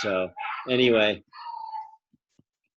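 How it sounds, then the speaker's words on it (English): Dogs bark inside a house, two loud close barks followed by a softer whimpering yip, while someone speaks briefly over them. "So sorry about my dogs; they're barking up there."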